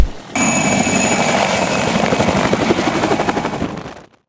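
A helicopter spraying marshland against mosquitoes near Anapa roars loudly and close, its rotor chopping steadily for about four seconds before the sound cuts off abruptly.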